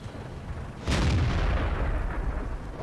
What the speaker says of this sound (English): I saw a shot just come in and hit nearby